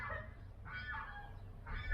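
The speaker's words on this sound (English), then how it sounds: "Turkeys in the background," Turkeys gobble in the background outside a country home in an Armenian village in spring: a few faint, warbling calls spaced out over low ambient noise.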